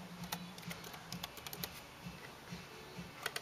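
Quiet, rapid clicking of keys on a computer keyboard, an irregular patter of light taps at close range in a calm room.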